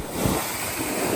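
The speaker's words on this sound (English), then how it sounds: "it sounds like a waterfall" Floodwater rushing through a backyard during a tornado storm, a loud, steady broadband roar like a waterfall that fills the whole clip without pause.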